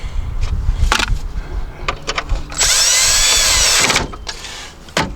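A power drill drives screws while a stock radio is refitted in a Buick Century, giving short whirring bursts, then one sustained loud spin of about a second and a half, with clicks and handling noise nearby.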